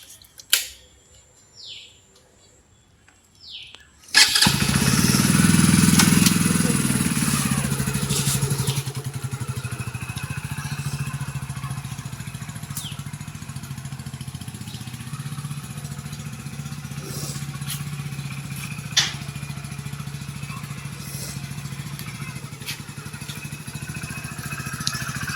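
A Hero Splendor Xtec 2.0 motorcycle is started after a few quiet clicks and settles into a loud, steady idle, with a brief rev at first and then an even, continuous engine hum.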